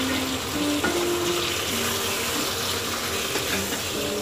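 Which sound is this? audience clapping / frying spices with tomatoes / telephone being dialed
frying spices with tomatoes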